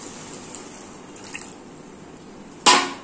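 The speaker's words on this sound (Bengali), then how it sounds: "এই জলটা ঢেলে দিলাম।" Water is poured into a pan of spiced oil for an egg curry, producing a sudden sharp hissing splash near the end after quiet, faint kitchen background.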